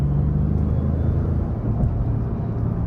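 A 2023 Ford Expedition King Ranch with a twin-turbo V6 in sport mode and rear-wheel drive, accelerating onto an interstate, a steady loud low engine and road rumble heard from inside the cabin, no voices.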